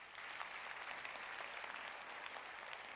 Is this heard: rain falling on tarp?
no